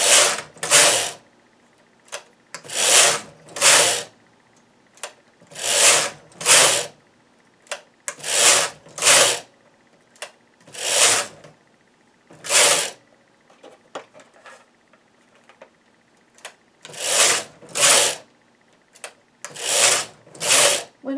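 A domestic knitting machine carriage sliding back and forth across the needle bed, knitting short-row rows in repeated paired whooshing passes separated by brief pauses, close and fairly loud with no talk.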